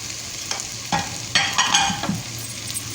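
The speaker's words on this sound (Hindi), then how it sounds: "थोड़ा इसको भूनेंगे दरमियानी आंच पे" Potatoes, capsicum and tomato frying over medium heat in a pan, a soft sizzle broken by a few scraping stirs and spoon knocks, short and close.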